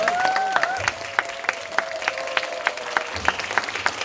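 Audience applause at a pansori performance of Simcheongga, thinning into a steady run of separate, evenly spaced claps, with a sustained tonal voice or instrument line fading out early.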